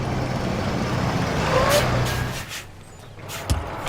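A car's engine rumbles steadily nearby, then drops off as the vehicle comes to a stop, leaving quieter surroundings and a brief thump.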